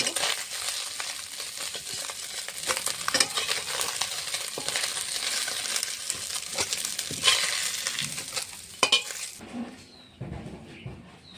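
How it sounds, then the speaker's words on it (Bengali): Steady hissing sizzle of small fish frying in hot oil, with occasional clinks of a utensil against the pan, fading out near the end. "এভাবে সম্পূর্ণ মাছ ভেজে নেব বাকি মাছগুলো এভাবে ভেজে নেব"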